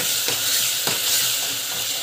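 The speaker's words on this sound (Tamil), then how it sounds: "அந்த பச்சை வாசம் போகிற வரைக்கும் நல்லா வதங்கிடணும்" Tomato and asafoetida masala sautéing in a pan, a loud close hiss of frying with a few soft stirring strokes through the sizzle.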